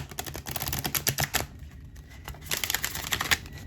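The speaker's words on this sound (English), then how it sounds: "I'm gonna give them one good shuffle." A deck of oracle cards is shuffled close up, producing quick bursts of crisp papery riffling and clicking over a few seconds.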